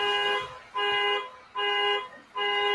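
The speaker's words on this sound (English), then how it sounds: "you got a car alarm going off, by the way" Car alarm going off in the background of a Denver Nuggets discussion, a repeating tone that pulses on and off four times at a steady rhythm, faint and distant, with no talk over it.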